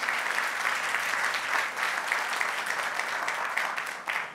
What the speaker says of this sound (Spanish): Denle un aplauso bien fuerte a nuestro Dios.